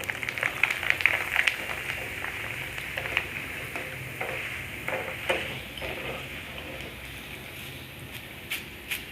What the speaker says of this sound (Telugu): బాండీ పెట్టుకుని ఆయిల్ పోసుకుందాం. చిప్స్ వేయించుకుందాం.